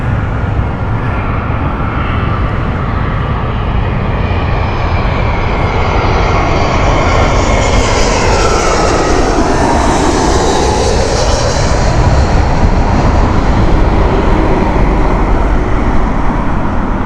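A 21-year-old passenger jet bound for Newcastle roars steadily and loudly for the full stretch, its engine tone swelling and sweeping through a pass near the middle before holding at a broad, continuous rumble.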